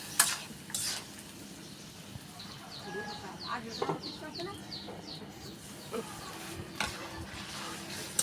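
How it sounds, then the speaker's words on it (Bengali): Chicken pieces and potatoes frying in a spiced Bengali chicken curry, stirred in the pan with a steady sizzle and intermittent scraping, close and fairly quiet, with faint background sounds. "মুরগির মাংসটা ভালো করে কষিয়ে নিব।"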